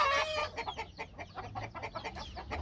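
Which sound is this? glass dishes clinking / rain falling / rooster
rooster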